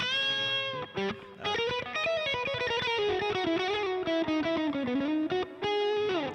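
Distorted electric guitar played through a JCM 800-style amp setting with a touch of reverb, sustained chords and bending notes ringing continuously.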